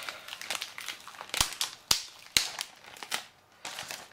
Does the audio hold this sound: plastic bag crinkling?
yes